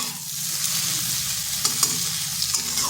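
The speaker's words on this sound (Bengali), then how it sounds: "আঁচটা স্লো আঁচে রেখে এইভাবে নেড়ে চেড়ে ভেজে নিতে হবে" Bitter gourd and potato stir-fried on low heat, a close, steady crackling sizzle with a couple of spatula taps and scrapes against the pan.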